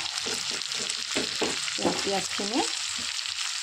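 Chopped onions hit hot oil with broiler chicken in a pan, a bright steady sizzle with soft stirring and a few short squeaky tones over the frying.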